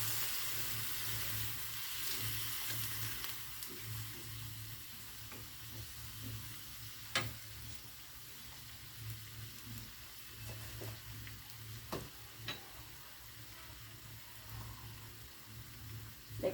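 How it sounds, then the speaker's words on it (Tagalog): Shrimp-head broth poured into a pan of sautéing chayote and shrimp, giving a steady low sizzle and bubbling throughout with a few sharp clinks of a utensil, fairly quiet and without voices. "ilagay na po natin ang ating sabaw, yung pinagpakuluan po ng ulo ng shrimp ng hipon po."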